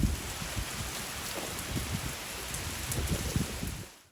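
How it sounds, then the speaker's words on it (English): Steady rain falls outdoors, a dense patter of drops on surfaces, moderately loud and constant before fading slightly at the end. "And now it's raining, so I'm going back indoors."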